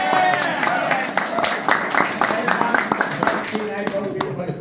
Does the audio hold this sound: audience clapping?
yes